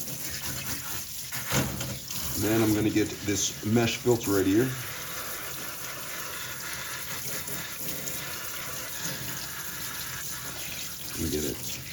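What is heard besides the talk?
warm tap water rinsing a dishwasher filter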